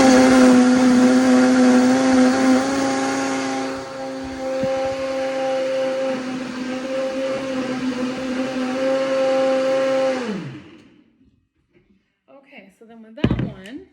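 A blender whirs loudly as it purées a kale green smoothie, holding a steady motor whine before it winds down and stops, followed by a few sharp knocks.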